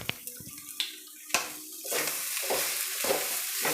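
Spiced vegetable curry with chili flakes stirred in a pan, a spoon scraping in uneven strokes with a few sharp clinks over a steady close sizzle.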